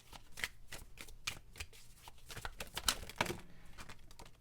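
Tarot cards are shuffled by hand at close range, producing soft, irregular riffling flutters and crisp snaps in quick bursts, quiet and without talk.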